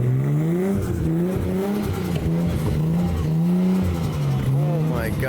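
A modified Chevrolet C8 Corvette engine revs hard at a car meet, a loud, close, sustained roar with rising and falling pitch sweeps throughout.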